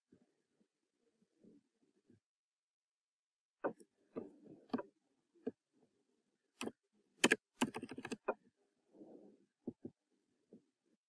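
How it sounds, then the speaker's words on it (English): Computer keys are tapped during design work in Figma, sparse clusters of soft clicks and a few sharper strokes with long pauses between, close and faint with no talking. "I will hit the keyboard again with the T."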